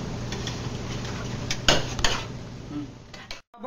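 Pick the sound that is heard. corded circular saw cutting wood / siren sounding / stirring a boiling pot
stirring a boiling pot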